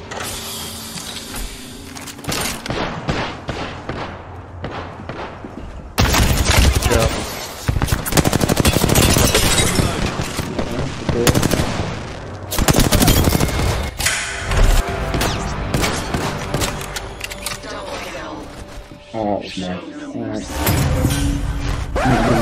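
Rapid bursts of automatic gunfire in the battle-royale shooter Apex Legends, loud and close, with repeated volleys and mechanical clatter coming in waves, mixed with game sounds.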